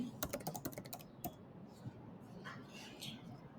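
Fingers type a place of birth into a Schengen visa form on a computer keyboard, with a quick clatter of close keystrokes for about a second, then a few scattered taps over a quiet room.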